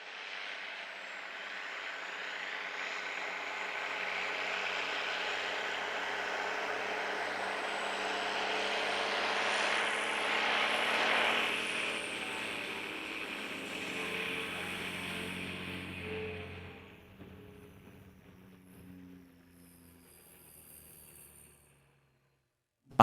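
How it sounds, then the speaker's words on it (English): A Mercedes MB trac farm tractor's engine drones steadily as it drives along on a foggy morning, a broad continuous hum that swells slightly, then drops away and fades near the end, with no talking. "now the engine is finally running again"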